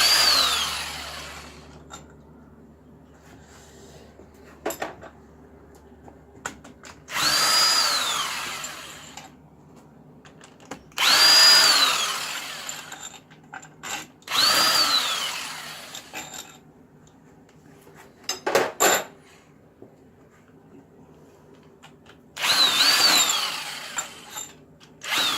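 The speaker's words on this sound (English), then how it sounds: "Come out with a drill." Power drill spinning out the head bolts on a Honda Civic EP3 K20 Type R engine during teardown, loud whirring bursts of one to two seconds each, repeated about seven times with short pauses between.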